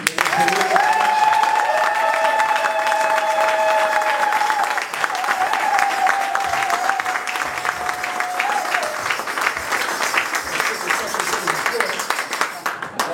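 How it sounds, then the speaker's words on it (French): Church congregation applauding and cheering at a revival gathering, sustained crowd clapping with whoops and long sung or shouted vocal tones over it, the applause continuing loudly throughout with voices mixed in. "Est-ce qu'on peut acclamer pour Jésus?"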